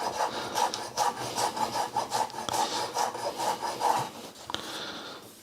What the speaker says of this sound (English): give it a bit of a mash, and then chop it quite finely